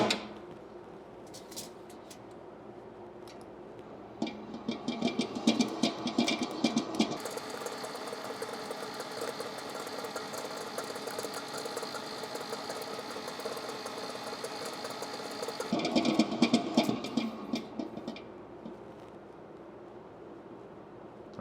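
A stand mixer kneads croissant dough, its motor droning steadily with rhythmic mechanical ticking and knocking that swells louder midway, then eases off near the end, with no talking.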